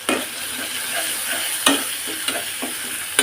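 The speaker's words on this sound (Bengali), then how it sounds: "ছোলা সেদ্ধ করাই আছে, ছোলাটা না হয় একটু বাগারটা দিয়ে নিই" Boiled chickpeas are tempered in a hot pan, giving a steady bright sizzle with a few sharp stirring scrapes, close up and without speech.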